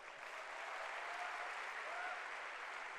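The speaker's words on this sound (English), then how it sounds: "So give my parents a round of applause." Audience applause for the speaker's parents at an executive diamond recognition event, a steady dense wash of clapping from a crowd, sustained and even for the whole moment, with no voices over it.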